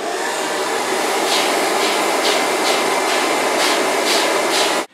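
A hair dryer blows steadily and loudly close by while hair is brushed through with a Kent brush, with faint periodic swishes of the brush strokes over the constant roar and no talking.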